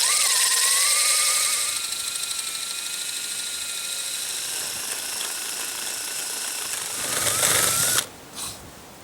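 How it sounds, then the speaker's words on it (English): A power drill whines steadily with strong harmonic tones, its pitch holding as the bit bores into a log to make a rocket log stove, then dropping away at the end as the motor stops. "we've got our hole drilled about that far into the log"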